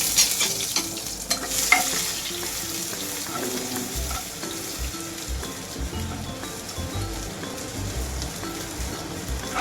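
Ginger and garlic fried in hot oil for brinjal varta, with a dense, continuous sizzle and crackle up close and occasional stirring clinks, and no talk.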